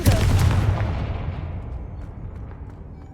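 The Confringo fire blast spell explodes in the Hogwarts Legacy video game with a single loud, close boom that fades into a long rumbling tail over a few seconds.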